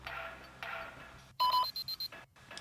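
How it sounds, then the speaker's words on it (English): Decision beeps in the Wirehead video game, a run of five or six clipped electronic beeps in a steady rhythm near the end, loud and close above a quiet background hum. "every time I hear a beep beep beep, that means I'm making a decision."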